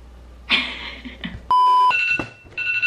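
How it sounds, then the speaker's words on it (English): Oven timer set for a batch of baked cookies, giving a loud steady electronic beep, then a series of shorter beeps in an uneven rhythm, close by in a quiet kitchen. "Timer run natin siya na 15 minutes."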